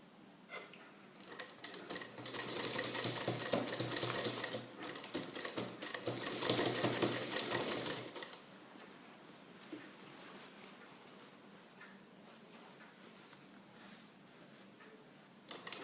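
A sewing machine stitches pleats into a salwar pant, a rapid close rattling run of about six seconds with a brief pause, then quieter handling sounds afterward.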